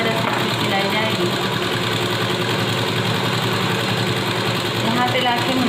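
A sewing machine stitches the side seam of a kurti, giving a steady, close, continuous mechanical whir with a low rattle that runs unbroken from start to finish.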